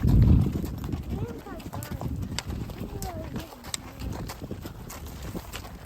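Hooves clip-clop at an easy walking pace, close by, with a person speaking over the steady footfalls.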